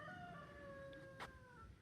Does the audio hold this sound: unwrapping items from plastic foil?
no